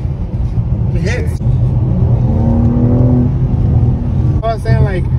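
BMW G82 M4 Competition engine accelerating under throttle, a rising rev tone climbing steadily for a couple of seconds inside the cabin, with brief bursts of talk before and after.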